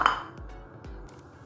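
Chickpeas dropped into a bowl for chana chaat: a bright clink at the start, then a couple of soft dull thuds and small light taps, close and quiet with no talking.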